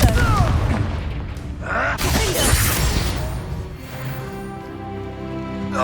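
Confringo fire spell blasting in the Hogwarts Legacy video game, a loud burst with crackling debris and a second surge around two seconds in, fading into a low rumble, with a voice talking over part of it.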